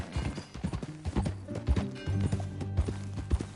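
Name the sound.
horse hooves riding, from a video game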